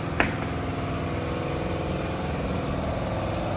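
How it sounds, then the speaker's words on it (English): A tire changer machine breaks the bead of a McLaren wheel in a workshop, giving a steady, loud mechanical drone with one brief sharp click near the start and no talking. "what we do is just break the tire off of the wheel"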